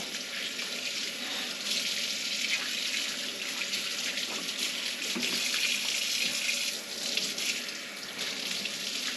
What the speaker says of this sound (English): The first thing that you need to do when you cook is wash your hands.